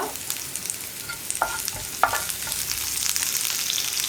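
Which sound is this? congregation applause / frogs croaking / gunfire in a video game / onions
onions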